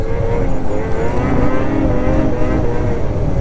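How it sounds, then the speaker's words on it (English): A 2027 XRS 600RR motorcycle engine runs hard at high revs, a loud, sustained, buzzing drone with a steady throttle and no pauses, close to the microphone. "The engine is so responsive"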